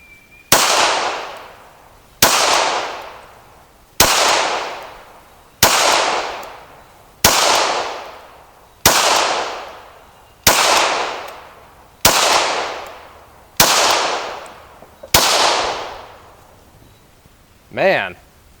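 Ten loud, evenly spaced gunshots from a Sig Sauer P226 Mk25 pistol at a shooting range, firing mixed remanufactured and steel case ammunition, each crack trailing into a reverberant tail, with a brief different sound at the end.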